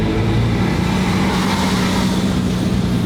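Steady, loud road traffic on a Boston street, a continuous engine and tire roar from a nearby car without clear breaks, heard from close by.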